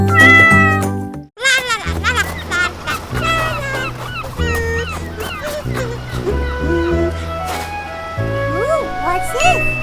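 A cat meows repeatedly in rising and falling cries, close and loud, mixed with honking, goose-like calls, and a person talks now and then.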